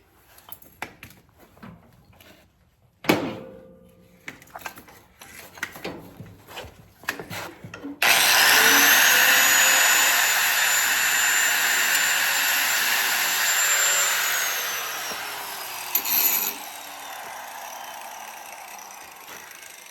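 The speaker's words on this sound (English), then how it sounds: "All right, I guess I gotta grind it down." After some clattering handling, a grinder bites into a part on a 40-year-old four-wheeler and screams loudly for about eight seconds with a steady, high-pitched whine. It then winds down, followed by a short final burst.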